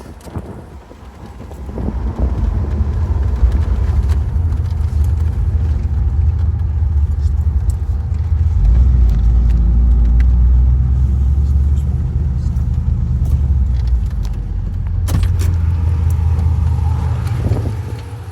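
An LS3 V8 idles in a 1967 Pontiac GTO convertible restomod with a six-speed manual, a loud, steady, deep rumble close by with wind buffeting the microphone, rising slightly partway through, with no speech.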